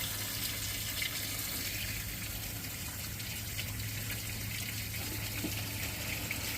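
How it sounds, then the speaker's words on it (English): Water pours steadily into a boat's bilge to test the bilge pump, a continuous close gushing and splashing that holds even and fairly loud for over six seconds, with no talking. "We just need to go ahead and put some water in here"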